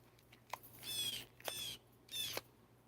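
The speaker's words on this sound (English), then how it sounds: "There's the birds talking." Birds calling in three short, bright chirping bursts, close and fairly clear against a quiet background, with no talking.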